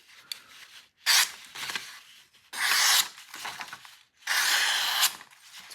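A sharp knife blade cuts through paper in three loud, rasping, tearing bursts separated by short pauses, close and without talk.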